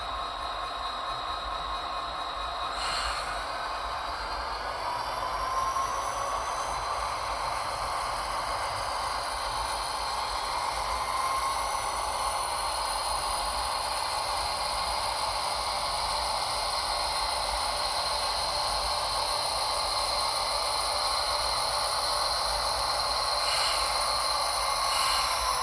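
Two refurbished Grand Trunk Western GP40-2 diesel locomotives idling and running up, a steady droning rumble with a broad hiss and faint whining tones held constant for the whole stretch, no voices.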